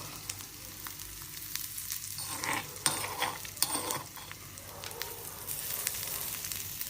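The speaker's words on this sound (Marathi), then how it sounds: "आणि हा ठेचलेला मसाला कच्चा असतं, मग थोडा असं त्याला भाजू दे." Crushed raw spice masala with chili powder roasting in a little oil in a pan, sizzling steadily and softly throughout, with faint stirring scrapes and clinks over a low kitchen hum.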